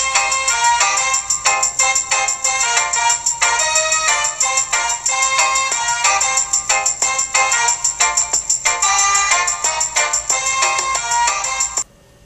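FLAC music file played back on a P3 portable media player: a bright, busy electronic-sounding melody plays loud and continuous throughout, then cuts off abruptly at the very end.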